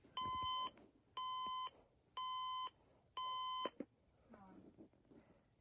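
An Emerson Research digital alarm clock radio sounds four loud, evenly spaced electronic beep bursts, each about half a second long, followed by faint handling noise and a brief voice afterward.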